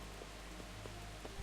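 Steady rain falls in the video game Kingdom Come: Deliverance, a faint, even hiss of drops with a few soft patters on top and no talk.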